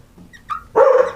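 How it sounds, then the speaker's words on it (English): Dog barking nearby, a soft yip followed by one loud, full bark, alone and close. "Now you're just barking for no reason."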